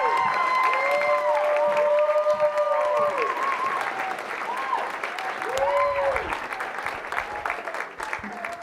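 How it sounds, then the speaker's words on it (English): Audience at the Push Comedy Theater in Norfolk applauding a storyteller at a comedy storytelling show, steady clapping with whoops and cheers, a voice briefly heard over it near the end. "Clap for Jen"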